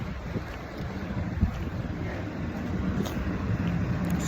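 Wind blows hard into a microphone outdoors at a job site by an HVAC unit and propane tanks, a steady low buffeting rumble with slight gusts and no speech.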